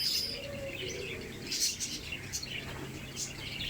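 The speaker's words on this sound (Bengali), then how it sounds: "এখানে বাচ্চা থেকে বুড়ো কবুতর, সব ধরনের কবুতরই পাবেন" Pigeons chirp and call in short bursts at an open-air pigeon market, the sounds faint and scattered over a steady crowd murmur and low background hum.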